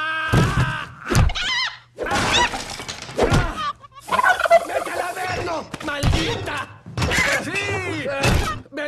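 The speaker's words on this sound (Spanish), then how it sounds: "¡Es el gallo!" Rooster calls ring out amid a noisy, chaotic scene, with excited voices shouting and thumping impacts throughout.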